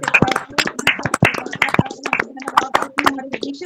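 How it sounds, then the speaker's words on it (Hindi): Loud rhythmic hand clapping rings out through a women's fellowship intercession prayer meeting, sharp claps offered in thanks to God, with voices and praise continuing alongside. "आई परमेश्वर को बहुत ऊंची ताली के द्वारा धन्यवाद दे।"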